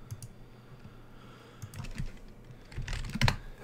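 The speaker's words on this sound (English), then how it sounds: "if you start typing random characters" Fingers type random characters on a computer keyboard nearby, with a few scattered clicks followed by quicker bursts of key taps that grow louder toward the end.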